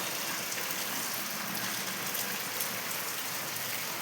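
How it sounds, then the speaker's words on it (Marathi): Heavy rain pours down on a village in the late afternoon, a dense, even hiss of drops on surfaces that runs unbroken and fairly close throughout, with no voices. "बघा मित्रांनो, पाऊस"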